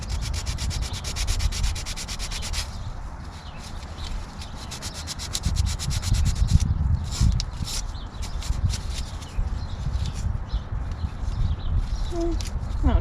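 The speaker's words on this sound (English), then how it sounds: "I'm just using an 80 grit here, something nice and rough to scuff it all up." Close, rough rasping strokes of 80 grit sandpaper scuffing rust and paint off a front brake part on an Austin Allegro, steady and continuous with a brief change in texture partway through and no talking.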